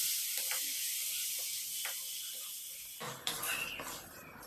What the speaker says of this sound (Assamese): এতিয়া তাত পিচি ৰখা নৰসিংহ পাতখিনি দি দিছোঁ। দি ভালকৈ লৰাই দিম গোটেইখিনি।